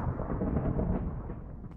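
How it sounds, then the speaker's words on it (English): Thunder from lightning in Minecraft VR, a deep, loud rolling rumble that fills the whole moment without a break. "More lightning."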